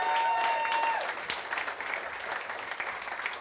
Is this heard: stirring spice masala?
no